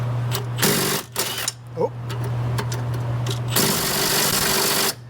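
A small 3/8-inch impact gun hammers at a stubborn bolt during repair work on a Honda car, firing one short rattling burst and then a longer one over a whirring motor, with a brief spoken exclamation between them.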